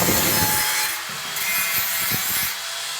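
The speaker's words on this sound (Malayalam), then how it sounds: "ബെൻഡ് നമുക്ക് കട്ട് ചെയ്യാനുണ്ട്" A pipe bend for a bathroom mixer is cut by hand, giving close, rough rasping saw strokes in an irregular back-and-forth rhythm over a steady hiss, with no talking.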